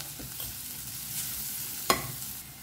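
Fried onions with turmeric powder stirred in a pan, a faint steady sizzle with soft spoon scraping and one sharp clack of the utensil against the pan.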